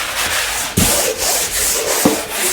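Hand sanding of dried joint compound during a bathroom renovation in a 100-year-old house: steady, close rubbing strokes with a couple of brief knocks, no talking.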